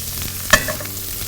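Baby carrots with lime juice, cilantro and a pinch of salt and pepper get a quick stir in a hot pan, giving one short scraping clatter over a steady low sizzle, with no one talking.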